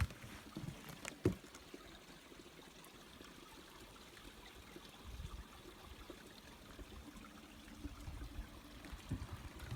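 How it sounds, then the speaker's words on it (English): Soft, steady trickle of a mountain stream running beneath a bridge, a faint continuous wash of flowing water with a brief knock early on. "Can you hear the water underneath?"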